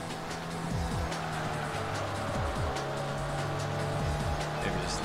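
A race car engine in the PS1 Gran Turismo racing game drones steadily while its pitch repeatedly blips and sweeps through downshifts, with a tire-squeal hiss running underneath.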